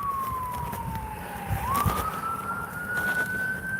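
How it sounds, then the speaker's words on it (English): A single siren wails at a moderate distance outdoors, its pitch gliding slowly down and then back up in a long sweep over steady street hiss and traffic rumble. "Got some sirens going."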